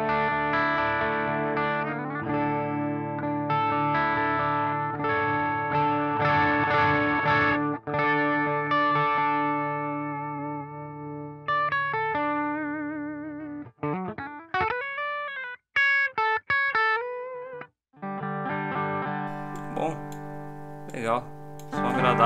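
Electric guitar on a clean channel through a Neural DSP amp plugin with a Plexi-like character, played alone as sustained chords and then single picked notes and bends, loud and close with effects-style shimmer.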